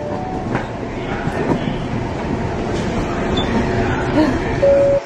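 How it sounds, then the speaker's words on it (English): Regular commuter train running on a line in Osaka, Japan, a steady broadband rumble of wheels on rails heard from on board, with a thin tonal squeal near the end. "This is a regular train, not a bullet train."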